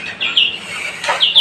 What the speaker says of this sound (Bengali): এটা হচ্ছে মুরগি বাচ্চা।